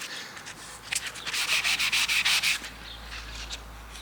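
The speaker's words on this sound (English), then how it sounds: "So now with that fine sanding pad, just got to go through and ensure that all of these" A fine sanding pad is rubbed by hand over the painted bodywork of a 2010 Citroen Berlingo in a workshop, a quick series of close, rhythmic scratchy strokes with no talking.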